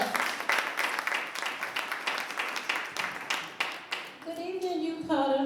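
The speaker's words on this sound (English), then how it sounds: "Let's clap her up" Audience applause at a youth gathering opening, a steady patter of many hands clapping that fades out toward the end as a voice begins to speak.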